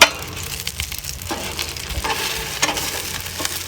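Food and onion sizzle on a hot grill, a steady loud crackling hiss with a few sharper pops and scrapes, no voices.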